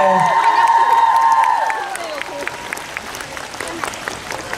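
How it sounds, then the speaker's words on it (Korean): An outdoor crowd at a walking festival in Suwon, South Korea, claps and cheers loudly, then the applause thins into scattered claps after about two seconds. "다시 한번큰 박수 부탁드립니다"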